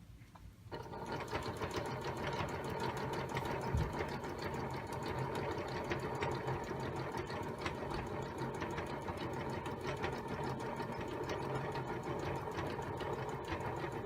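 A sewing machine runs continuously for a long straight seam while a basic tabard is stitched, giving a fast, even mechanical whir with rapid needle ticks. It is close and steady throughout, with no speech.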